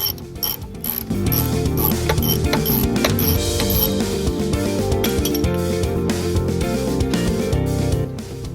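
Socket wrench turning a caliper bolt on a 2018 Nissan Murano brake, a busy run of ratcheting, clicking and grinding mechanical noise held loud and steady for about eight seconds before easing off.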